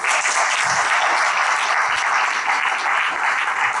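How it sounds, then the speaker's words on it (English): A crowd applauds the founders of a youth mental health project, giving dense, continuous clapping that holds an even level throughout, loud and close. "I think we should give a big applause to the founders of REACH."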